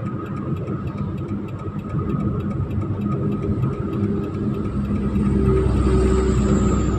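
A car engine climbs to about 3000 RPM and is shifted into fourth gear while driving in busy traffic, giving a steady mid-range hum and rumble that grows slightly louder toward the end, with no talking.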